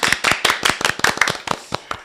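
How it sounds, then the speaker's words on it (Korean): A small studio panel claps to open a Korean baseball talk show, a sparse run of distinct, fairly close hand claps with uneven rhythm, fading slightly toward the end. "그럼 여러분의 큰 박수와 함께 출발해 보도록 하겠습니다."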